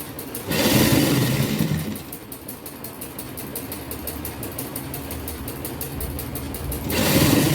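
Sewing machine stitching lace onto a cotton shirt, a fast steady mechanical whirr running for several seconds, with louder, fuller motor bursts at the start and end.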